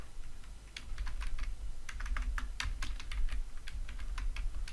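Close, rapid typing on a computer keyboard, bursts of clicking keystrokes in uneven runs with short pauses, entering code for an ASP.NET MVC project, with no talking.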